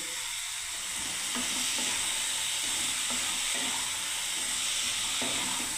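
Vegetables with peas for shukto fry in a pan with a dense, steady hiss of sizzling, while a spoon stirs in regular scraping strokes close by.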